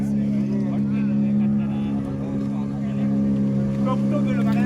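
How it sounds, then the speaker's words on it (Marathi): A motorboat heads across the sea toward the Sindhudurg fort at Malvan, its engine a steady, loud drone filling the scene while people talk nearby over it. "आता आम्ही जाऊ जात आहोत मालवण किल्ल्यावरती समोर जे तुम्हाला मित्रांनो दिसतंय हे हा आपला सिंधुदुर्ग किल्ला आहे मालवण किल्ला आणि ही बोट आहे आमची"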